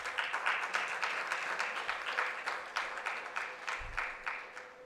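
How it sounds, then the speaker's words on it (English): An audience at a dental association's annual congress opening ceremony applauds. The clapping is steady and continuous, fairly faint and distant, with a low thump near the end. "And I think they deserve a clap for that."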